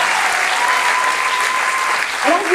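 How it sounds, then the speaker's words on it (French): Audience applause for the pianist Antoine Roth at a Paris improv theatre festival, a steady dense clapping from a full room that holds for the whole stretch, with a faint sustained tone beneath it. "Applaudissements pour le meilleur accompagnateur."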